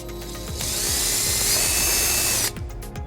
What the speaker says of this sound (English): So what we're first gonna do is drill the back hole.